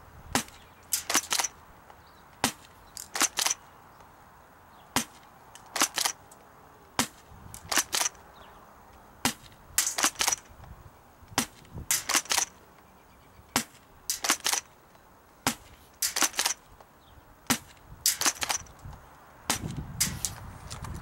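A Bravo multi-shot tri-shot airsoft shotgun fires sharp, snappy cracks at fairly regular intervals, about two dozen over the stretch and some in quick pairs, with quiet handling between shots.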